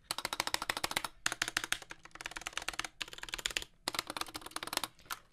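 Fast typing on a mechanical keyboard with unlubricated, rattly stabilizers, rapid clacking keystrokes in several bursts separated by brief pauses, close and crisp with a slightly hollow rattle.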